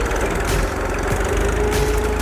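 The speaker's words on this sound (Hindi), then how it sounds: "ट्रैक्टर को स्टार्ट करते हैं।" A tractor engine running at a steady, loud idle with a low throbbing rumble, heard close up in a farm field where raised beds are being formed over drip line and mulching paper.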